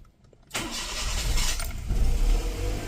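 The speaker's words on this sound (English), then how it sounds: "let's start the vehicle up and see exactly what the customer complaint is" A 2001 Toyota Corolla with 340,000 kilometres cranks and starts after a short silence, catching with a slightly hesitant start and settling into a loud, steady idle close by.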